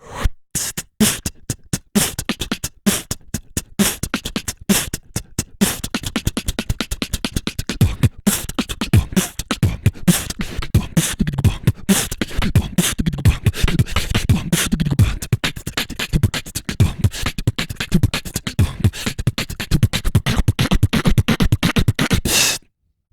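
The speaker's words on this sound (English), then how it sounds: "Now that is just the drums, that is just the beat" An electronic drum pattern with sharp snare hits and quick, ticking hi-hats, sparse at first and then building into a dense, steady beat.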